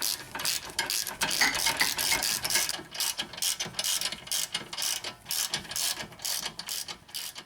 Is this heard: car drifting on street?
no